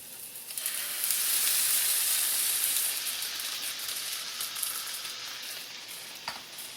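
Tofu skin and tomato puree frying in a pan, a bright steady sizzle that swells after a moment and continues with small crackles and a brief stir near the end, no speech.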